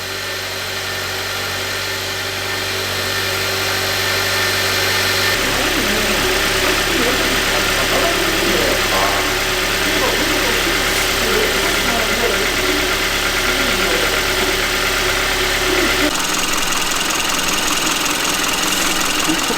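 A used 2011 Hyundai Avante MD GDi with about 120,000 km, suspected of engine knocking, starts cold for the first time and then idles with a loud, steady mechanical hum and a fast ticking clatter, while someone talks over it.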